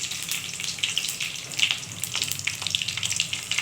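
Whole cumin seeds and bay leaves sizzle in hot mustard oil in a wok, giving a close, continuous crackling fry with fine spitting pops throughout and no talking.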